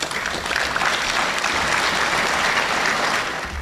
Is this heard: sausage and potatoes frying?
no